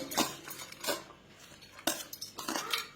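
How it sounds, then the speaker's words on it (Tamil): Chopped onions and green chillies tipped into a bowl for an omelette, a few quiet clinks and scrapes of a spoon against the dish with soft tumbling between, close and sparse, no talk. "வெங்காயத்தை பேர் அரிஞ்சு வச்சுருக்கிறோம். இதை இதில் கொட்டிக்கிறோம்"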